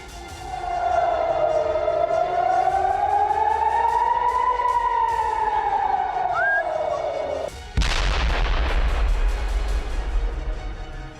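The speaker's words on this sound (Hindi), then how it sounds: "सायरन की गूंजती आवाज के बीच आयरन डोम इन रॉकेट को नष्ट करता रहा" An air raid siren wails in Israel during a Hezbollah rocket attack, rising and falling loudly for several seconds, then a sudden deep boom cuts in, followed by a rumbling explosion and noise.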